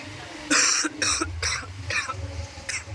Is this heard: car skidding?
no